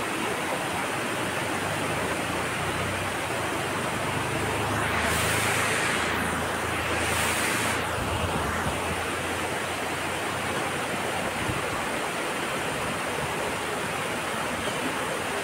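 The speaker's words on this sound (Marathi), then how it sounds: "इथे मस्त धबधब्याचा आहे" A roadside waterfall at Toran Ghat near Trimbakeshwar gives a loud, unbroken rush of falling water. The steady roar fills the whole span, with a brief whooshing swell midway and no voices.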